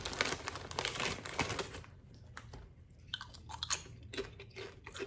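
Goya corn tortilla chips being chewed close up: crisp, loud crunching bites followed by steadier mastication for several seconds, with no talking.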